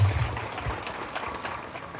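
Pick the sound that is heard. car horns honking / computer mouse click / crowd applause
crowd applause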